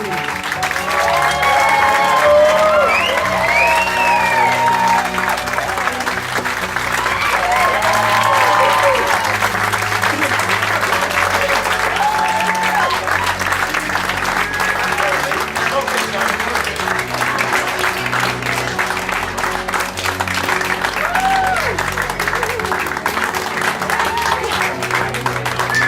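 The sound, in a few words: wedding guests applauding bride and groom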